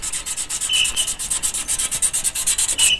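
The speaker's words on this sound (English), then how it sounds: "Gonna clean the end of the rotor button here" A truck's distributor rotor button rubbed with fine 1200-grit sandpaper, producing a loud, rapid, rhythmic scratchy rasp of short back-and-forth strokes close up, with no voices.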